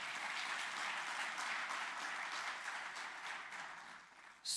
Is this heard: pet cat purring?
no